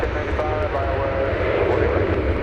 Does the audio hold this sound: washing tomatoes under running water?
no